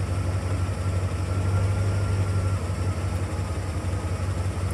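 Steady idle of a stock 1984 Corvette Cross-Fire Injection engine a few minutes after a cold start: an unbroken deep droning hum, close and even, with no voices over it.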